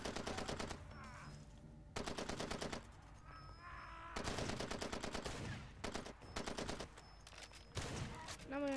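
Rapid machine-gun bursts from Far Cry 2 gameplay, several loud sustained volleys with brief gaps between them, close and dominant throughout.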